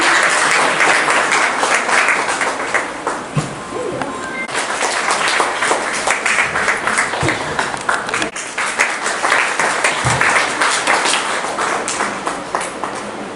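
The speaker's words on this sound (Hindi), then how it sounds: "कार्यकर्ता मातृशक्ति के लिए तालियां।" Sustained applause from a crowd, steady dense clapping filling the room for the whole stretch, with brief dips and swells.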